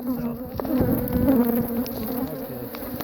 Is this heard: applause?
no